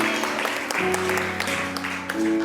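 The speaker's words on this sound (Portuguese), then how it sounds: "Se é para aplaudir, aplaude de verdade aí," Congregation applauding in a church service, a steady wash of clapping hands at moderate volume with sustained musical tones and a few voices underneath.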